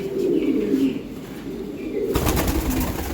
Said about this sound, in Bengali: এটা কি কবুতর এটা আপনার টাইগার গ্রিজেল মাদি